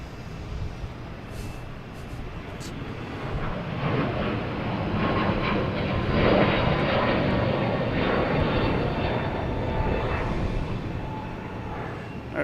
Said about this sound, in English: we have a Delta taking off, an A321neo heading to San Diego